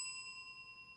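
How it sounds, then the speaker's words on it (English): A small bell rung once, its clear ringing tone decaying faintly over about a second with no other sound. "Gosh, I am not good with this bell."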